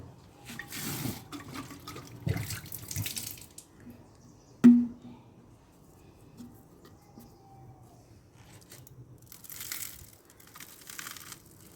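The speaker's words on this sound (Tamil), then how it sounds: "இப்போ பாட்டிலாக தண்ணி பிடிக்கிறோம்" Water runs into a bottle in short, splashing bursts separated by quiet gaps, with a sharp knock partway through and faint crinkling handling noises around it.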